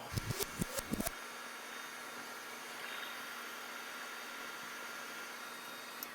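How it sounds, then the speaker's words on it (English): A quick burst of clicks and knocks, then a steady, soft airy whoosh of a blow dryer running continuously at low heat, drying fluid off a vintage Timex watch being restored. "I'm going to use the blow dryer on low heat just to help dry off any extra fluid."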